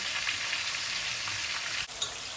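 Tomato paste sautés in a pan with a dense, even sizzle throughout, broken once near the end by a brief click, with no talking.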